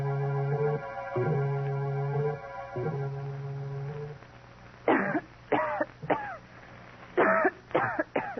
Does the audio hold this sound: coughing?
yes